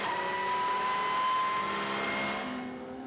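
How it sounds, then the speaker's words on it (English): A Porsche race car at the 6 Hours of Bahrain endurance race, with damage to its left rear quarter panel, roars past with a high, sustained engine whine that holds steady and then fades slightly. "this is the sound of a Porsche engine."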